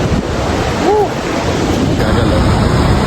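At the edge of the drop at Niagara Falls, the waterfall pours out a continuous broad roar, loud and close, mixed with heavy wind buffeting, while a voice calls out briefly over it.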